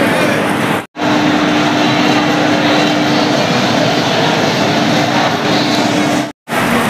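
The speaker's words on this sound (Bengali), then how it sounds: "আর প্ল্যাটফর্মে কিন্তু গাড়ি ঢুকে গেছে" Tamralipta Express standing at a Howrah station platform, a loud steady rumble and hiss of the train with a faint hum running through it, broken by two brief dropouts.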